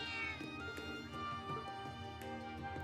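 A cat meows in Trails of Cold Steel III, brief game-voiced mews set over steady background music with no talking.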